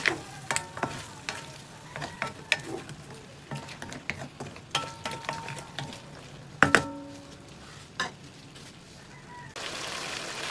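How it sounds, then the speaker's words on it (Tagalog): Spices stirred in a frying pan with a steady sizzle under repeated scraping and clinking strokes, close and moderately loud, with no talking. "Haluin lang natin para mag-blend yung mga spices natin."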